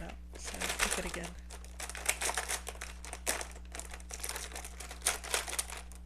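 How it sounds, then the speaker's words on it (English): Pens rustle and clatter as they are sorted by hand, making a quiet run of crinkly clicks and shuffles. A low steady hum sits underneath, and a voice speaks briefly near the start. "hearing the rustling of pens is kind of like that ASMR"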